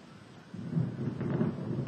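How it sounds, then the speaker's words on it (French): A low thunder rumble swells in after a quiet start and rolls on steadily, deep and moderately loud, with no voices. "il va y avoir de l'orage."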